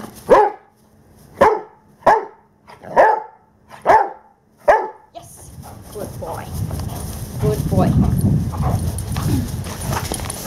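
Six sharp dog barks in an even rhythm during protection training, then noisy rustling and movement with background sounds.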